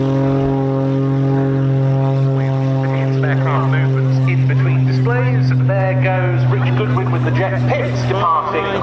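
A propeller aircraft departs an RAF Cosford air show, its loud steady engine drone holding strong harmonic tones throughout while a commentator talks over it.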